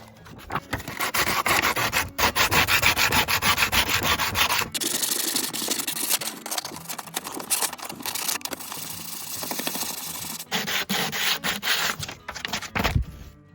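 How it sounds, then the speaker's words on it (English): Wood is hand-sanded with sandpaper in rapid rasping back-and-forth strokes, close and fairly loud, easing to softer rubbing in the middle before vigorous strokes resume, with no talking. "But I'm gonna try to sand it like this first and see how it works."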